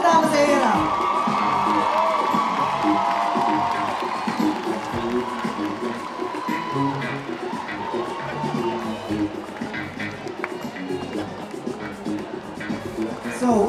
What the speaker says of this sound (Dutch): een hartelijk applaus, dames en heren, voor de winnaars van vanavond